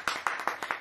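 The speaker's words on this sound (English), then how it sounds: "You all need to clap." A few people clap in unison at a small home birthday gathering, four sharp close claps in a quick, even rhythm.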